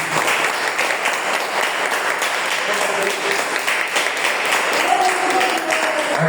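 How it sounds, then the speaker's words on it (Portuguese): Congregation in a church service breaks into sustained applause, a loud, even wash of many hands clapping together, with faint voices mixed in underneath. "Dá uma salva de palmas para Jesus."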